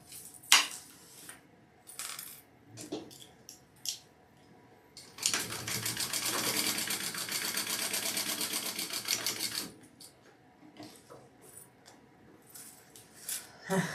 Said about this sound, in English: I'm gonna baste these two bottom pieces together.